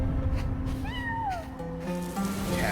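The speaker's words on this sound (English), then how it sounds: "Cats." Cats in Genshin Impact meow in a few rising and falling calls, fairly clear and near, over the game's ambient background sound.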